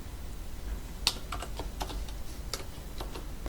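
Typing on a computer keyboard at a desk during Photoshop work, with a handful of sharp, irregular key clicks spread across a few seconds over a steady low room hum.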